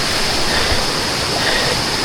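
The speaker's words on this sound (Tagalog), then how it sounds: "At nagpakita na yung tubig sa gilid natin." Water rushes steadily beside a forest trail as a loud, dense, unbroken roar filling the whole clip, close by and with no talk over it.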